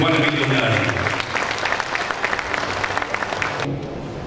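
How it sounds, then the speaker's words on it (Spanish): Audience applause for the municipal mayor at the official opening of an agricultural show, a dense steady clatter of many hands with voices mixed in, cutting off sharply near the end. "El aplauso para el señor intendente de Juan Emilio Oleari."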